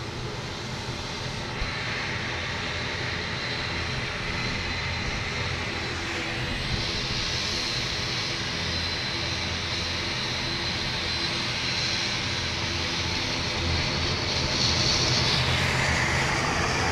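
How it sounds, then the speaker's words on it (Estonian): Steady, loud broadband roar of an airplane engine at Tallinn's Lennart Meri airport, continuous throughout with a faint high whine near the end, heard as if standing behind the engine. "Põhimõtteliselt jätta nagu lennuki mootori taga seisaks."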